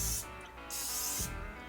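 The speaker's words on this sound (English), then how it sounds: "spray it with cooking spray" Cooking spray hisses into an 8x8 baking pan in two short, close bursts separated by a brief pause.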